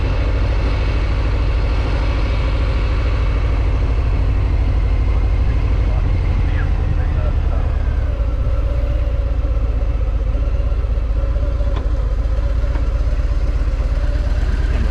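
A Harley-Davidson motorcycle idles nearby, a loud, steady low rumble with a throbbing, uneven beat and some mechanical clatter running throughout, no one talking over it.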